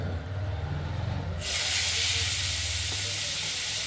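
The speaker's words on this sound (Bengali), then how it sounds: "ভালো করে চটকে আমরা একসঙ্গে এটা আমরা কড়াইতে সর্ষে ফোড়নের মধ্যে দিয়ে দিলাম" A mashed mixture of radish and banana stem drops into hot mustard seed tempering in a wok, setting off a sudden loud, steady hiss and sizzle that keeps going close up.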